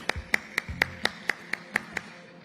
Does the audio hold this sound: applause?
yes